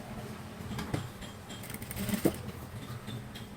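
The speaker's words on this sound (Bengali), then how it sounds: "এভাবে গলায় সেলাই করে আবার ভাঁজ দিতে হবে।" A sewing machine stitches the neckline of a blouse in short, close bursts of whirring, with brief pauses between runs and one louder clack near the end.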